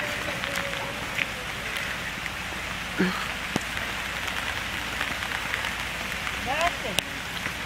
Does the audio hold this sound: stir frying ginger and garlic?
no